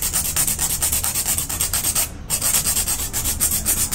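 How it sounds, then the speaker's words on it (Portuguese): A file rubbing the tip of a gel nail extension, heard as quick rhythmic back-and-forth rasping strokes, close and steady, with a brief pause partway through and no talking. "Eu vou fazer o lixamento técnico de ponta."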